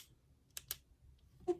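Uniball Jetstream RT pen button clicked a few times, crisp small plastic clicks, close and quiet, with no talking.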